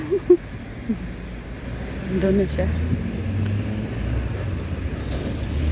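A motorized tricycle engine rumbles steadily while driving along a road, a low continuous drone close by, with a voice speaking briefly over it at the start.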